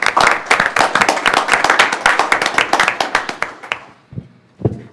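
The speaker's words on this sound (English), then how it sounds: "So round of applause for the girls' golf." A town council meeting room breaks into applause for a girls' golf team: a small group's distinct claps, lively at first, thinning out and fading within a few seconds, followed by a couple of faint stray sounds.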